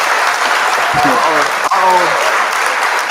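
Audience applause and cheering at a trucking company Q&A session fill the room as a steady broadband wash throughout, with a short spoken exclamation partway through.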